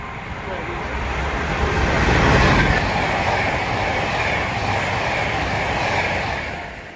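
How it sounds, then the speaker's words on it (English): A CrossCountry passenger train bound for Glasgow Central from Bristol Temple Meads rushes past close by, a loud sustained roar swelling and holding for several seconds before easing slightly. "Here comes the 1419 cross-country service to Glasgow Central via Leeds from Bristol Temple Meads."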